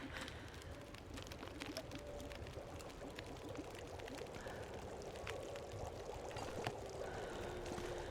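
Water being collected in the survival video game The Long Dark, a soft continuous pouring or trickling stream running steadily and faintly, with quiet ambient background and no talk.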